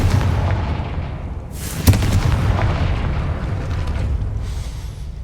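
The Confringo blasting spell in Hogwarts Legacy goes off with a deep booming burst and one sharp crack near the middle, followed by a rumbling, fading tail.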